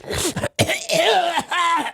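A loud, theatrical cough, several harsh hacking bursts with a brief pause, overdone and deliberate rather than natural.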